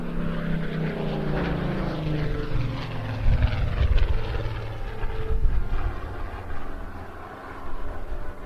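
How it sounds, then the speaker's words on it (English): A Spitfire powered by a Rolls-Royce Griffon engine flies a display at the Bournemouth Air Festival, its steady propeller roar swelling and shifting in pitch as it passes, loud and continuous with no talk over it. "Let you enjoy the rest of the display in silence, save for the sound of the Rolls-Royce Griffin"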